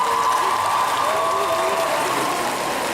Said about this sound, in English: can I have a grand applause for them?